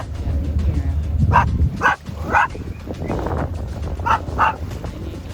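A dog near Banderas Bay gives several sharp barks and yips in a loose series over a low rumbling engine, fairly close and loud.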